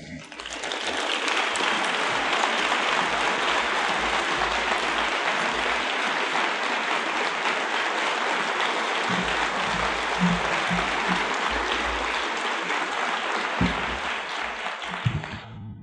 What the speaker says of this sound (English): Big round of applause for our friend, my friend, Safra Catz